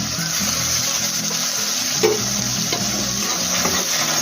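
Chopped tomato hits a pan of garlicky spice paste for a Bhola fish curry, setting off a loud, continuous sizzle with a stirring scrape near the middle and steady frying throughout.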